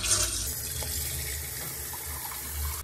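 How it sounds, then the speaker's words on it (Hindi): Water runs into a pot for making tea, a steady nearby splashing stream that holds throughout with no voices. "और अब इसमें हम थोड़ा पानी लेंगे।"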